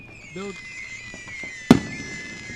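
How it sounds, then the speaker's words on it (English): Fireworks go off outdoors: one sharp, loud bang with a brief crackling tail, heard after a short faint voice over steady background noise. "There's those fireworks again."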